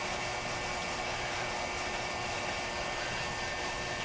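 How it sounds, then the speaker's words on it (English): Steady broadband hum of an ultrasonic cleaner running nearby during restoration of a 1936 Carcano M91/38 cavalry carbine, a constant loud hiss with no breaks or changes. "you can hear the ultrasonic going in the background"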